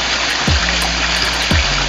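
Mountain spring water flowing from a village source where residents draw drinking water, a steady close gush with two brief gurgling surges.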